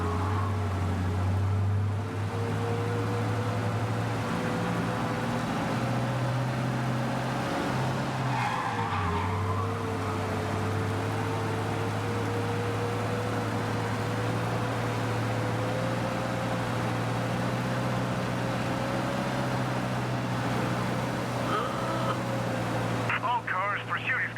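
Car driving fast while fleeing a police chase in the Mafia video game, with a steady droning engine, a rising then levelling pitch and a brief tire skid, running loud and continuous under occasional talk.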